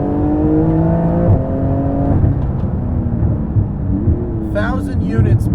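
A Porsche 991 GT2 RS with PDK gearbox revs hard mid-corner, its loud, close engine note climbing, dropping at a gear shift and climbing again, with a person speaking over it.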